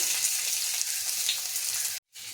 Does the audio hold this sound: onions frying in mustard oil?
yes